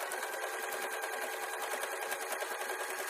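A sewing machine stitches fabric for a simple nut tray in a close, continuous run, its rapid mechanical chatter steady and even from start to finish.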